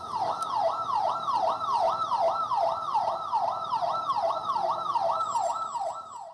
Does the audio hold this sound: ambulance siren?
yes